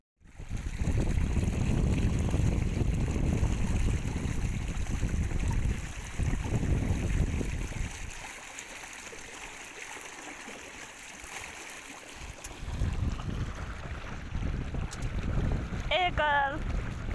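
A little boat on a calm lake in the Netherlands moves along with steady water rushing and wind buffeting the microphone, easing to a quieter lull before the watery noise returns.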